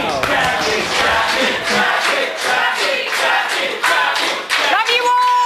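Studio audience at a live TV eviction show cheering and clapping loudly, shouts and whoops layered over applause, continuous and close with a few brief louder bursts.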